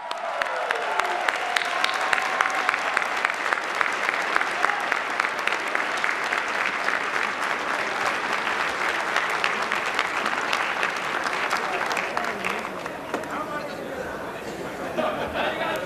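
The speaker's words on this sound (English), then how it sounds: "Give him a round of applause." An auction audience applauds after a sale is closed, with steady dense clapping from a sizable crowd lasting throughout and a little chatter mixed in near the end.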